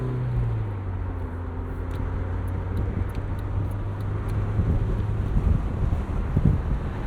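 A 1996 BMW Z3 with the 1.9 engine idles while warming up, a low steady rumble under wind buffeting the microphone, growing slightly rougher toward the end.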